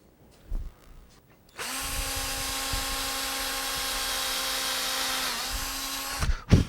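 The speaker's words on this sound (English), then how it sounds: "I have drilled these by hand with a hand drill" A hand-held power drill boring pin holes into wooden window shutter louvers whines steadily at high speed for about four seconds, close and loud, with light handling knocks before and after.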